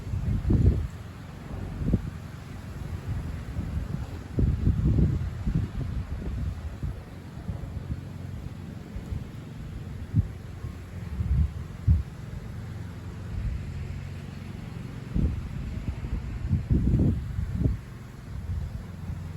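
Gusty south wind buffets the microphone in low, uneven rumbling bursts, rising and falling over a faint steady hum.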